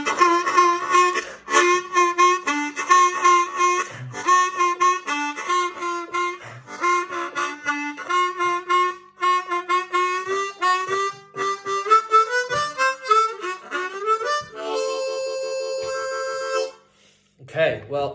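Harmonica lick built on a 3 draw double bend, played solo and close: a run of reedy notes with bends, ending in a long sustained tone, then a brief pause and a final note.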